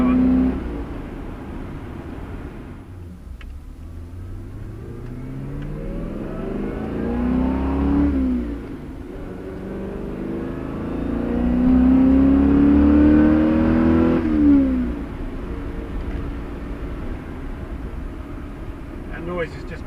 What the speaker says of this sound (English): You get all those fantastic mechanical thrashing, meshing noises from the quad cams,